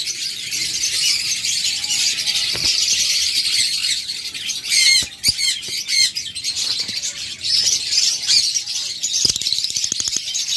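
Many caged pet birds chirp and squawk in a busy, continuous chorus, with sharp clicks and sudden bursts of louder calls cutting through, no talk.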